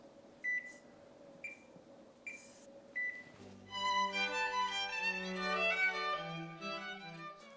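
An oven being set to bake gives four short, evenly spaced beeps, close and clear, followed by a bright multi-tone chime melody, with no talking.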